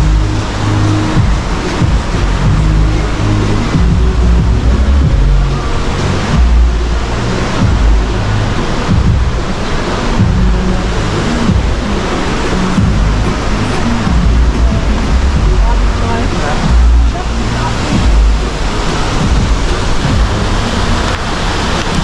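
Waterfall in Ubud, Bali, a loud, steady broadband roar of rushing water that stays unbroken and close, with no talking.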